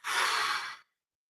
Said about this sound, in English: on the exhale, blow it out audibly through your mouth